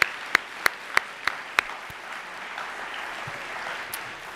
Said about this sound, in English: I want to thank you and give you a round of applause for that as a class